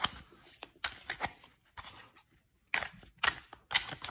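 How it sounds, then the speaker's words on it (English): Tarot cards are shuffled by hand in a series of crisp riffling bursts and soft slaps, close and fairly quiet, with short pauses between shuffles and no talk. "We're going to shuffle up these cards"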